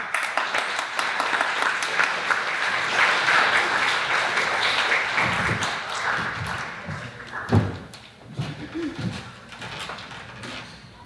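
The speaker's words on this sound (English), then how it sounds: "Please give a warm round of applause" Audience applause at a twelfth-grade high school graduation ceremony, steady clapping from a crowd that fades after about five seconds into scattered thumps and soft room noise.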